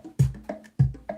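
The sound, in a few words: random percussion pattern made by hitting random buttons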